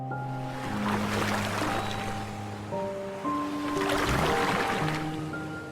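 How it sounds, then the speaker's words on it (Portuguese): Gentle water waves rise and fall in two soft swells, lapping quietly under sustained lullaby music tones, with no speech. "Há ondas suaves na superfície onde estão balançando."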